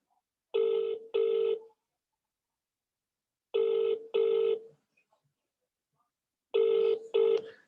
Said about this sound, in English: She's not answering her phone either.